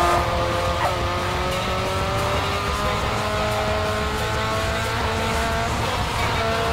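Street racing cars in a Need for Speed Underground 2 remake, engines droning and revving with shifting pitch and occasional tire squeals, a constant loud engine roar with no talk.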